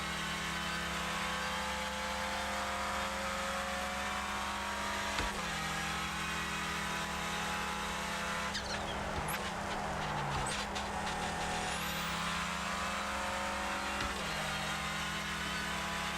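Clio Cup race car engine in the iRacing sim, a steady droning hum held at near-constant pitch with a few brief shifts and dips, fairly quiet and continuous with no voices.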